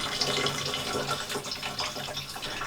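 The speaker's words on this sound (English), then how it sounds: "you just flip the switch, there comes the water" A tap in a camper van runs steadily, a soft, close splash and trickle of water into a sink, quiet and unbroken for a few seconds with no voices.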